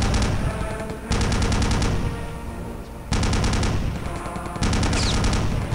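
Rapid automatic gunfire in the video game Wolfenstein, loud and close, coming in dense sustained bursts separated by brief lulls, with no talking.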